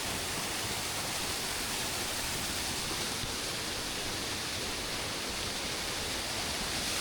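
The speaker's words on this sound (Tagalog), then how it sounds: "Lakas ng agos, oh." A strong river current rushes near Mother Falls in Aurora, a dense, constant roar of churning water with no pauses, loud and enveloping.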